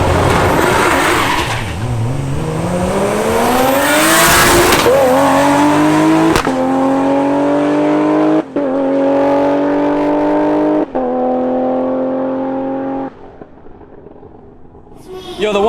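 A Barra-swapped Ford GT350 making over 1000 wheel horsepower launches hard on a drag strip, its engine screaming up through the revs with a sharp crack at the 1-2 shift before pulling again, very loud and close.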